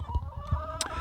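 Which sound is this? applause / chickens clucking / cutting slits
chickens clucking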